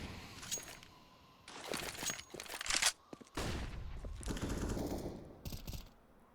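Automatic rifle fire in Counter-Strike: Global Offensive during a competitive match, rapid sharp bursts repeated several times with quieter gaps between them and faint clinking debris.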